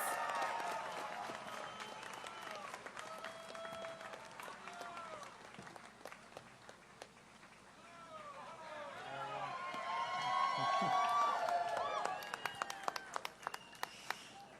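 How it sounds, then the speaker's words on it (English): An audience at a Los Angeles mayoral campaign event applauds as candidate Caruso is introduced: a spread of clapping with scattered whoops and cheers, dipping midway and then swelling again to a louder burst near the end. "Let's give him a round of applause."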